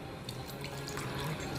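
Water poured into washed Gujarati dal in a pot, a soft steady trickling splash with faint drip-like accents, quiet and close, no voices.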